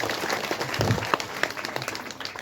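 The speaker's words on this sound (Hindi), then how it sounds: "मैं देव सिंह नेगी के लिए एक बार जोरदार तालियां" Temple-event audience clapping for an honoured guest, a short burst of scattered hand claps at moderate distance with a few sharper individual claps standing out.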